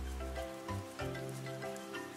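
Rain falls in an animated children's cartoon as a steady, soft patter mixed with a gentle musical background.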